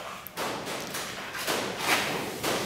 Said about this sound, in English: That banging sound is my steel shed expanding in the sunshine